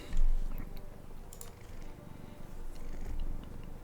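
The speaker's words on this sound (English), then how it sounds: "I've got a cat on my lap this time." A cat resting on a lap purrs close and steady, a low continuous rumble with faint ticking clicks over it.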